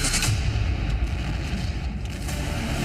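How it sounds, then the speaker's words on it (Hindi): Explosions from Israeli air strikes on Iranian cities come as a dense, continuous rumble of booms and roaring blasts, with a sharper crack near the start and heavy low-end noise throughout. "अब की बार ईरान के शहरों में धमाकों की गूंज सुनाई दी।"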